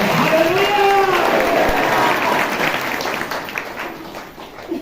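Crowd clapping in a steady wash, with an excited voice calling out over it at the start before the applause thins and fades.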